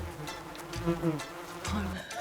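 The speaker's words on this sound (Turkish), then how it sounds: "Sinek." A fly buzzes close by in a steady, wavering drone that rises and falls as it moves around.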